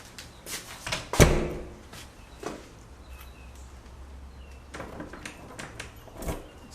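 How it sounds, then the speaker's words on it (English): A Kwikset door lock turned with a key, one sharp loud metallic click-clunk near the start followed by a few fainter scrapes and taps, close by with no talking. "or I can lock the door."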